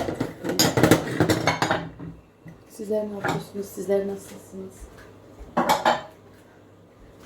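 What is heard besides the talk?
washed dishes being put away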